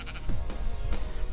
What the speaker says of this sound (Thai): สวัสดีแกะสวัสดีแกะสวัสดีแกะบายบายแกะ